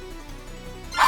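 A dog in the game lumenTale gives a short, sharp bark right at the end, following a quiet stretch of soft game ambience.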